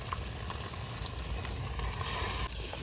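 Garlic paste fries in a hot pan while cooking outdoors by a dam at night, giving a steady, close sizzle and crackle with occasional stirring scrapes and no voices.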